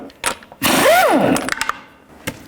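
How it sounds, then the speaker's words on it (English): An impact wrench loosens the lug nuts on a 1999-2007 Chevy Silverado 2500HD wheel, a loud close whirring burst with a rising and falling whine, then rattling clicks as it winds down. "take the lug nuts off"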